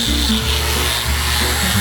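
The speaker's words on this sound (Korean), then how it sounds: "좋은 물결이 나오니까 갈아내보자" A torch-burned pallet wood bench is sanded with a power sander, producing a loud, continuous abrasive grinding hum with small shifts in pitch as the tool moves across the wood.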